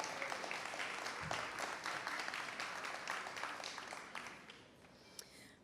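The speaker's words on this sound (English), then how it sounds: "So can we give the Change Capital Fund another round of applause?" At a community organization's gala, an audience gives a round of applause: even, moderately distant clapping from a large crowd that holds steady and then thins out near the end.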